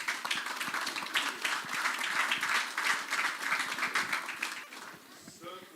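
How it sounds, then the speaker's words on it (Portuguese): A church congregation applauds to welcome a deaconess, a dense crackle of many hands clapping for several seconds before tapering off, with a voice then starting to speak as the clapping dies away. "Vamos receber a diaconisa Sâmela também com palmas para Jesus."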